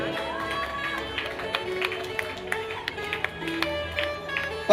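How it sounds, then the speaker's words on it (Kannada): At an ice cream festival party game, a group claps along to playing music, with sharp, fairly regular hand claps sounding over the tune and a faint crowd murmur. "ಕಮಾನ್ ಬರ್ಲಿ ಚಪ್ಪಾಳೆ"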